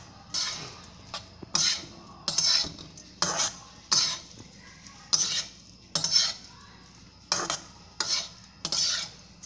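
Lemon rice (chitranna) being stirred and mixed in a pan: a regular series of about a dozen scraping, clinking strokes of a spoon against metal, close and distinct, with quiet pauses between each stroke and no talk.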